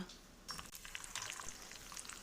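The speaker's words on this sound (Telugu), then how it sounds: "గుమ్మడి పువ్వు రేకులని ఇలా పోపులో వేశాను" Pumpkin flower petals sizzling in hot tempering oil for a bottle gourd yogurt chutney, a steady crackling fry with a sharper burst partway through, close by and with no talk.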